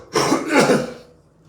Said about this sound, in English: Humidity always gets the morning cough in me.